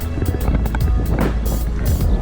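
Strong wind on the Yanbu Corniche seafront in Saudi Arabia rushes across the microphone in a continuous, loud rumble with bursts of gusty noise throughout.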